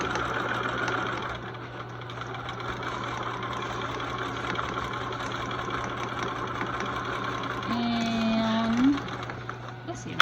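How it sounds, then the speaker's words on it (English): A sewing machine back stitching a 5/8-inch bodice seam on a shirt, a steady mechanical whir and hum running throughout with a brief higher motor surge near the end, a voice talking over it. "And it's regular, so I'm back stitching to start and to finish."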